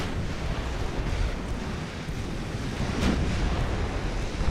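A stormy sea in the naval game Ultimate Admiral Dreadnoughts: continuous crashing waves and buffeting wind, a dense, loud roar with one brief sharper burst partway through.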